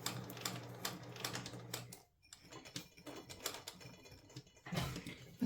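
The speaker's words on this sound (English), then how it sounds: "I'm trying to just sew up to the line where I attached the zipper." A sewing machine stitching a zipper pouch made from upcycled food wrappers, with quick rattling bursts of needle strokes that stop briefly mid-way and then resume, close and moderately quiet with no voices.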